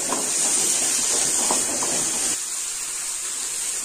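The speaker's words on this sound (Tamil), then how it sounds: "இதை நல்லா வதக்கி விட்டுருங்க" Turkey berries (sundakkai) sautéing in a pan give a steady bright hiss with faint crackle, close and continuous, easing slightly toward the end.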